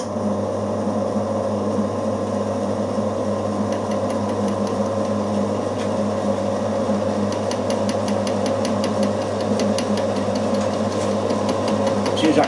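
A milling machine cuts a tapered dovetail in a workpiece, producing a steady, continuous motor hum with a faint, rapid rhythmic ticking from the cutter. Nobody speaks.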